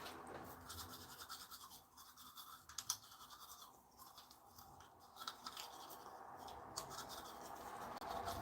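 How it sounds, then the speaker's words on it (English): An Aquasonic Black Series electric toothbrush runs with a faint, steady high buzz, broken by soft scratchy brushing strokes and small clicks. "It's an electric toothbrush."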